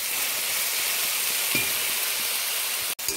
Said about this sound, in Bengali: এয়া মোৰ আলু ভাজা হৈ আছে